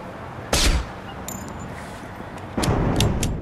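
Gunfire in the video game The Saboteur cracks out in two bursts, a sharp loud shot early on and a rapid cluster of shots near the end, with quieter game ambience and faint clicks between.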